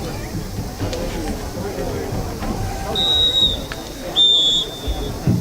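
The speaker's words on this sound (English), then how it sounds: "We got a whistle." Referee's whistle at a high school football game between Stratford and Spencer/Columbus, two short shrill blasts over steady crowd murmur, signaling a timeout.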